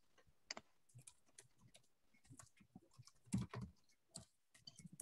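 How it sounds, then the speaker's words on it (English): Computer keyboard typing during an online talk, quiet irregular key clicks in short bursts with a louder cluster midway. "I'm typing it in the chat."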